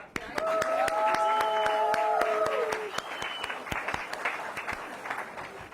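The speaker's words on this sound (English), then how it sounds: "We all deserve a round of applause." An audience applauds at a community milestone event, a crowd's clapping with distinct close claps, joined early on by a sustained tonal sound over the clapping that fades as the applause continues.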